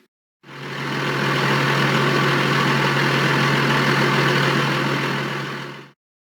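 A heavy bulldozer diesel engine runs steadily at a low idle, a constant deep rumble with a strong low hum, starting and stopping abruptly.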